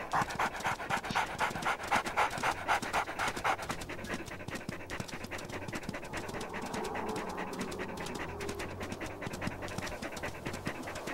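A wolf pants steadily in the Wolf Quest video game, a rapid breathy rhythm running continuously at moderate loudness with faint game ambience beneath.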